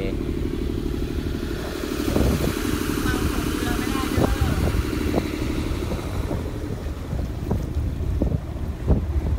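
A yacht's motor drones steadily while heading out to sea off Pattaya, wind buffeting the microphone and water splashing alongside, with occasional thumps as the hull moves.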